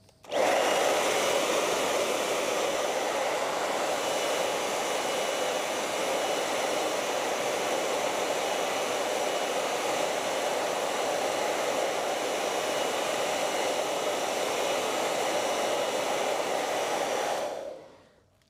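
A hair dryer blows steadily and loudly on an acrylic painting for about seventeen seconds, then cuts off abruptly, with no talking over it.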